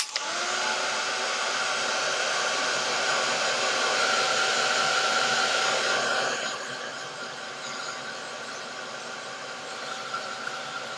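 Hair dryer blowing on wet paint, a steady loud whooshing roar that drops to a lower hum partway through.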